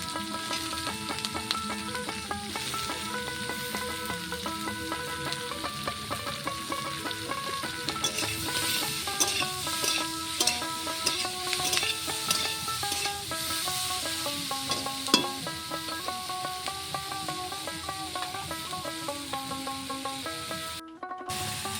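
Pointed gourd fries in a pan with a steady, soft sizzle and hiss while it is stirred, with occasional scraping and clinks, and no talking.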